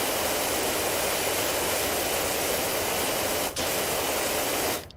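A pressure washer fitted with a long nozzle sprays continuously in PowerWash Simulator, a loud, steady hiss of broadband water noise with a brief dip in the middle and a cutoff at the end.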